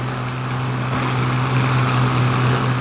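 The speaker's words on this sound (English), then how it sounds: "They will feather one propeller, allow another to windmill, and fly the plane on the other two engines only." An Avro Argonaut airliner flies on only two engines, with one propeller feathered and another windmilling. Its propellers make a loud, steady drone with a constant low hum and no pauses.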